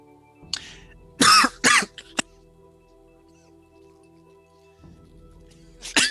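A person at a microphone breaks into a coughing fit, with one short cough, then a cluster of three sharp, close coughs with throat clearing, a lull of quiet room noise, and a final cough.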